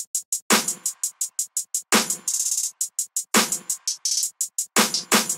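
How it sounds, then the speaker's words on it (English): A simple programmed snare pattern lands on a slow, even backbeat, one sharp crack roughly every one and a half seconds, over quick ticking hi-hats, with no voices. "I just had this simple holding snare"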